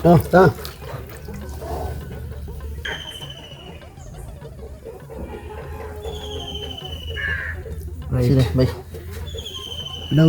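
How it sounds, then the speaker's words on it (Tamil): Water poured into a clay stove mould, with soft splashing and trickling running under the talk. People speak close by at the start and again near the end. "தண்ணியை ஊற்றுறேன்"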